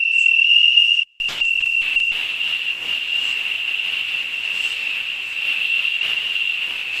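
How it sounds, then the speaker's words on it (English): Crickets chirp in a steady, continuous high trill, loud and close, with a brief break near the start before resuming. "We can also hear the chirping of crickets at night."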